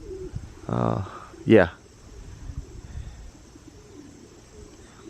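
Pigeons in a loft holding young birds, breeders and cocks, with a soft cooing call and a brief burst of wing or bird noise close by, as someone speaks briefly.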